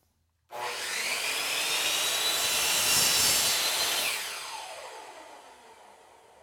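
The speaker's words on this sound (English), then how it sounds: "So I'll set my saw for a 45-degree miter cut, lock it down." A miter saw makes a 45-degree miter cut through a wooden workpiece. The motor spins up abruptly into a loud whining roar, and the blade grinds through the wood before winding down over the last seconds.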